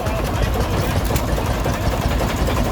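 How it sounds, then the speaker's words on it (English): A 1929 Gardner 3J5 two-stroke diesel stationary engine runs at a show, a loud, steady, close mechanical drone with a dense rapid beat filling the whole stretch. "3J5 2-stroke diesel"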